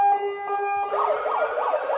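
An Ahuja SUH-25M siren fitted to an SUV sounds loud and close, first holding a steady tone, then switching to its ambulance setting with a rapid up-and-down wail.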